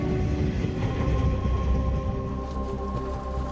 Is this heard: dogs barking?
no